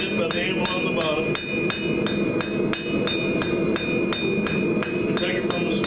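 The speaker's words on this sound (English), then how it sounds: "Remember, as I'm hitting this corner, so being hit by the anvil on the bottom." A hammer rings on hot steel being forged into a spade hook on an anvil, a fast steady series of bright metallic strikes, loud and close, with a voice talking beneath.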